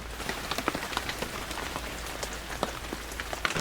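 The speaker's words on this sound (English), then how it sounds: "It is a rainy one." Rain falling steadily at Thunderhill Raceway in Willis, California, during a touring car championship weekend, a dense patter of drops striking hard surfaces with scattered sharper splats and no voices.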